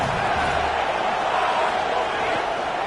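Stadium crowd noise in the college football video game College Football 27, a loud, steady roar of the crowd, dense and continuous, pressing on a team pinned deep in its own end.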